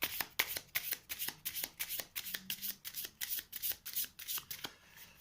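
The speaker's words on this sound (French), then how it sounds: "Alors, je vais les mélanger, donc." Advanced skill cards from The 7th Continent board game are shuffled in rapid repeated riffles, about a dozen crisp papery bursts in quick rhythm, close and clear.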